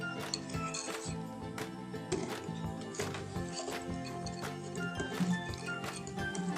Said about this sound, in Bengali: এভাবে ঘুরিয়ে ঘুরিয়ে নাড়ব।